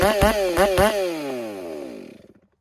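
A ported Husqvarna 572 chainsaw revving in a few sharp blips, then a sustained high whine that winds down and fades to silence, loud and close with no talk.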